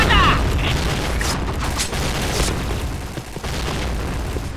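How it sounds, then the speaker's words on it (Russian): Grenade blasts in the shooter Point Blank come as several dull, booming bursts spaced about a second apart, set over steady in-game background noise. "Граната! Граната! Граната! Граната! Граната!"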